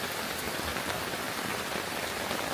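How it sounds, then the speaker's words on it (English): Steady, dense rain patters across a taut tarp overhead, a continuous close hiss of drops with no voices. "it starts raining"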